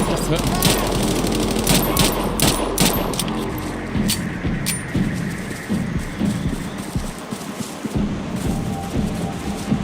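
Bursts of automatic gunfire and single shots in the video game Sniper Ghost Warrior Contracts, dense and continuous, with sharp cracks over a rumbling background of combat noise.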